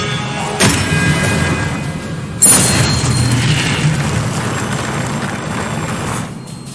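Expelliarmus spells cast in Hogwarts Legacy land as two sharp booming bursts, the second stronger, each trailing into a rumbling, whooshing decay before fading out.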